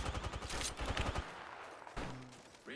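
Rapid bursts of gunfire in an Apex Legends-style battle royale video game, a quick run of sharp shots for about a second, then quieter game ambience with a brief tonal effect.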